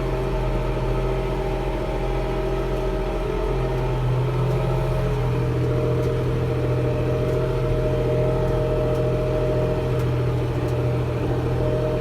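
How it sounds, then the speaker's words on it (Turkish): Steady low drone of a tractor engine running while ploughing a field, heard from inside the closed cab, with a constant hum and slight shift in pitch partway through. "Traktörün sesi çok gelebilir."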